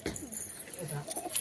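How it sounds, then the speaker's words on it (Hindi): Pigeons cooing softly on a rooftop water-tank area, a few faint low warbling coos amid light outdoor noise. "ये देखो कितना मस्त प्यारा लगा थे कबूतर मन है।"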